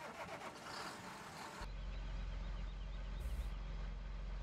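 A John Deere 8360 RT tractor in Farming Simulator 15 starts and settles into a steady, deep engine drone that holds close and even, following earlier mechanical clatter.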